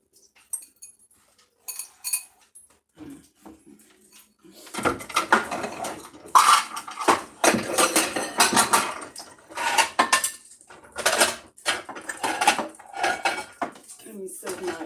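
Dishes and cutlery clink and clatter in a home kitchen at dinner time, with sparse knocks at first and then dense, busy rattling of plates and silverware close by.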